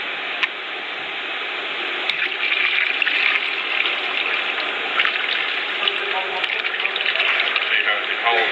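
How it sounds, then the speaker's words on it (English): Water drains and trickles out of the separator of an A3 sterilization circuit in a steady, continuous gush with small splashes and clicks, heard close throughout. "So when it holds water, water will come in, then water will then drip out."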